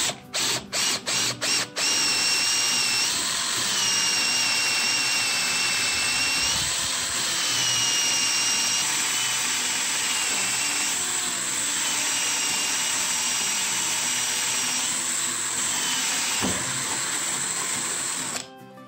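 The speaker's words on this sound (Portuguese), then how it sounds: "Vamos fazer um furo aqui em uma madeira maciça." Cordless multi-material drill boring a hole into solid angico hardwood: a few short trigger bursts, then a loud, sustained high-pitched motor whine with periodic pitch dips as the bit bites, close up and alone.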